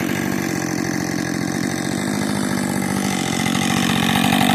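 A worn Husqvarna 562 chainsaw engine runs close by with a harsh, rattling two-stroke buzz that climbs in pitch as it is revved up from idle, loud and continuous with no voices.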